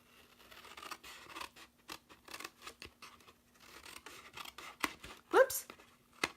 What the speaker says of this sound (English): We're just gonna take these little slivers and cut them right off